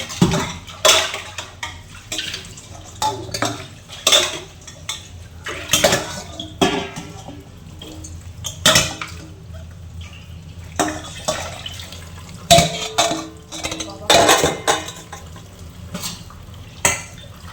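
Dishes and utensils are washed by hand in a home kitchen, with intermittent clatter of pots, plates and cutlery against running and dripping water, close and moderately loud.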